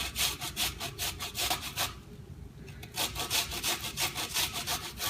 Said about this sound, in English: I actually use the grater to help me just make it so that it's really fine